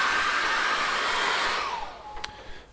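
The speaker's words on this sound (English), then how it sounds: "I'm just going to run the hairdryer over it" A hairdryer blows steadily over wet acrylic paint on a canvas, a loud continuous whoosh that fades as it is switched off, leaving a quieter tail with a brief click near the end.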